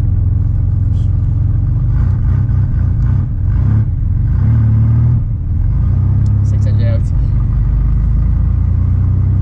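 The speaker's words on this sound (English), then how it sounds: "the turbo kicking right here" Air-cooled 1992 Porsche 911 3.3 Turbo engine rumbles loud and close, building as it accelerates with a rising turbo surge, continuous for several seconds with some voice mixed in.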